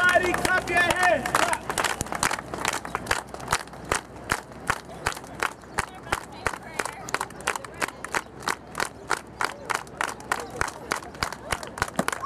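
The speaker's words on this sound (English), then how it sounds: "Everybody clap your hands." Street show crowd in Manhattan clapping hands in a steady rhythmic beat, sharp repeated claps continuing throughout with a performer's voice and crowd noise mixed in at the start.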